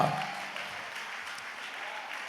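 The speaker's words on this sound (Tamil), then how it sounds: "கையை தட்டி அவருக்கு ஒரு கரகோஷம் கொடுக்க மாட்டீங்களா?" Good Friday church congregation clapping together, a steady, moderately loud spread of applause from a crowd, with a faint voice at the very start.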